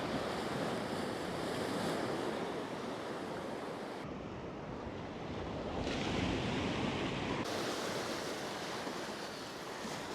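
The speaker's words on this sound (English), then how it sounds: "the waves are splashing right up" Sea waves rushing and splashing up a shore where someone fishes for bass, a constant loud roar of surf with wind noise on the microphone; no talking.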